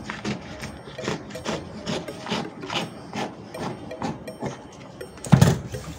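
Scissors snip through a paper corset pattern along a dart: a steady run of soft, rhythmic cutting strokes up close, ending with a sharper clack near the finish.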